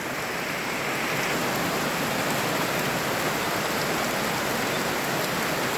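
Steady rain falling, a dense even patter with no letup, fairly close and continuous throughout.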